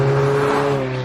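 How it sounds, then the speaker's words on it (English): Engine of an Alfa Romeo 4C Spider launch edition, heard from inside the raw open-top sports car, a loud steady droning hum sustained briefly and fading slightly at the end. "you can hear the engine quite a lot"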